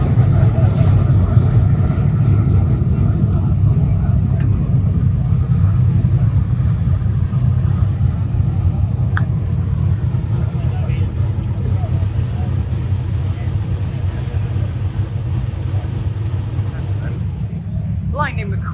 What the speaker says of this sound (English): cars are lining up here to head out to go and take part in the hill climb